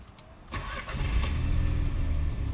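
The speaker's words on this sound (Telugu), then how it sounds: "ఒకసారి ఇంజన్ స్టార్ట్ చేద్దామండి." A 2020 Skoda Rapid petrol engine cranks briefly and catches, then settles into a smooth, steady idle close by.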